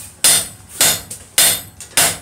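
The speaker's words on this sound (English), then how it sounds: "And I want to hammer straight forward." Steel being forged in a vice takes hard hammer blows, four loud ringing strikes at a steady, roughly half-second rhythm, each decaying before the next, with no voices.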